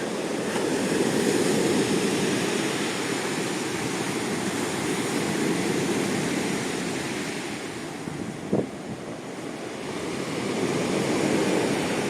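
Rough Black Sea surf at Koktebel on a stormy evening roars continuously with heavy wind buffeting the microphone, a broad, stormy wash that swells and eases without pause.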